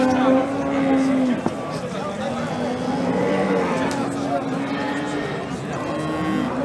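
Calves low and moo amid the steady crowd noise of a Turkish livestock market, with several cattle calls rising over constant chatter and people talking nearby throughout.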